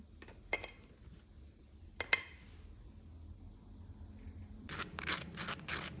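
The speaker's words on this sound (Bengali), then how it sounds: "এবার আমি সার্ভিং এর জন্য প্লেটে একটা একটা করে তুলে নিচ্ছি।" Air-fried chicken kebabs are lifted one by one onto a serving plate, giving sharp, close clinks of metal against plate at separate moments, then a quick cluster of clattering taps near the end over quiet room noise.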